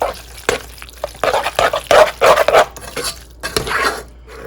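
A spoon scrapes and clanks against a pot while boxed macaroni and cheese is stirred, giving a string of loud, irregular metallic knocks and scrapes up close.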